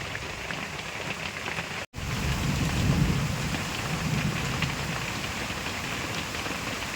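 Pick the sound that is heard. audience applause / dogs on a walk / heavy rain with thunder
heavy rain with thunder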